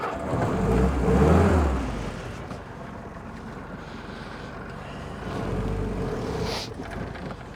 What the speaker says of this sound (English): So now pretend that this is seamlessly transferring into me driving away in my Jeep.